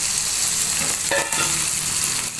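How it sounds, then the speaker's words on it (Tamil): Turkey berries stirred into frying onion and tomato in a pan, giving a steady loud sizzle throughout with one brief scraping stir midway, no talking. "சுண்டக்காயை போட்டு நல்லா ஒரு கிண்டி கிண்டி விட்டுக்கலாம்"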